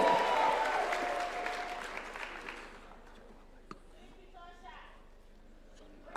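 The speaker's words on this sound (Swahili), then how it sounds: "Wapi makofi ya Aaron Cheruiyot, leader of majority?" Loud crowd clapping and cheering at a UDA political rally and national governing council, swelling at first then fading away into scattered claps and background murmur.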